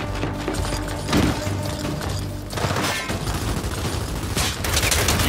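Gunfire in the video game Gears 5, dense loud rattling bursts and booming impacts continuing almost without pause, close and heavy, alone with no voices.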